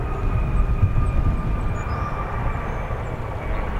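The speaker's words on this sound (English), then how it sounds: "Nice landing there for that part of the CRJ 200" A CRJ 200 regional jet landing at O'Hare airport, a steady loud engine roar with rumble and faint tonal whine holding throughout, no talk.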